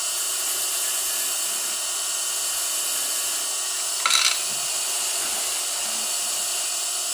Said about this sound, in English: I'm pushing this tool in.